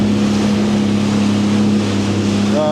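Close, continuous engine drone from a Sea-Doo personal watercraft running on a flowing river, steady in pitch and level, with wind and splashing water washing over it.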